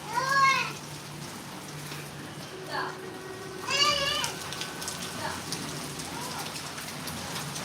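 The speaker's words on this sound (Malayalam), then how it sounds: "ഇവിടെ നല്ല മഴ" Heavy rain pours steadily, a dense broadband hiss throughout, with a voice and a cat-like meow rising briefly over it near the start and middle.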